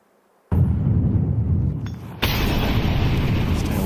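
Molotov fire from thrown bottles bursting in Counter-Strike during a professional match, a sudden loud whooshing roar that keeps burning, then a second, brighter flare-up about two seconds later, with no talk over it.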